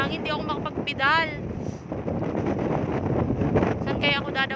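Strong wind roars against the microphone in steady broadband gusts while someone cycles around the Nuvali area, with a person speaking over it near the start and again at the end.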